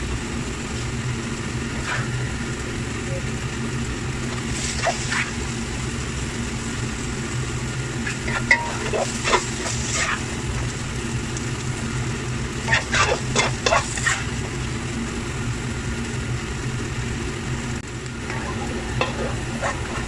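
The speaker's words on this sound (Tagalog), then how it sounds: "haluin lang po until umunti na po yung sauce" Sautéed vegetables in teriyaki sauce are stirred in a pan over a constant low sizzle, with occasional scraping clatter as the spatula moves. No one speaks.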